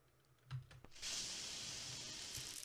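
A spray can rigged with a straw as a flamethrower in a video game lets out a loud, steady hiss that starts abruptly after a few soft clicks and holds for over a second and a half, with no talk.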